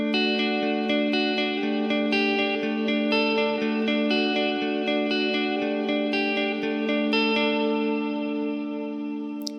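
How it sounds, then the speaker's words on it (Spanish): An electric guitar played through a multi-effects pedal with a big reverb, decay at 80 and mix at 35, rings out sustained chords and notes that bloom into a spacious, hall-like wash with long tails. "la guitarra se siente como si estuviese en un lugar muy grande"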